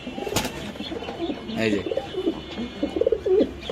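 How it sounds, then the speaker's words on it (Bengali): Pigeons kept for sale in Mirpur, Dhaka, giving low throaty coos that come in short bursts near the mic, with someone briefly speaking over them. "এই যে পাগলা কবুতর"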